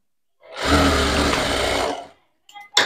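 A sewing machine stitches a blouse in one loud, close burst of about a second and a half of rapid, steady whirring and clatter, then stops, followed by a couple of faint handling noises.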